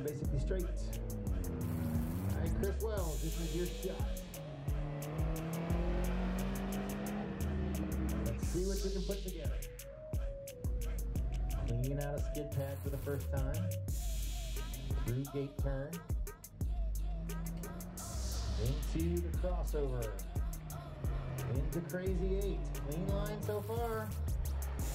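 A Nissan Juke runs an autocross course at an MSCC event, its engine revving up and down through the turns with the odd tire squeal, close and loud throughout, while a voice talks over it.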